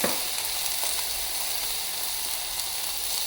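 Homemade ginger-garlic paste fries in a pan for a vegetable sambar, giving a steady, loud, close sizzle that holds evenly throughout with no talking.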